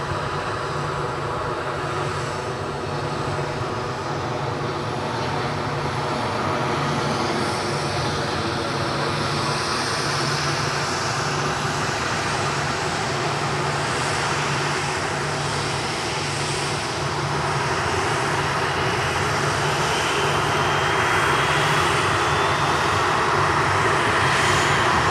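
A WestJet airliner arriving at Edinburgh airport, its engines a loud, steady roar that holds without a break from start to end, with no talking.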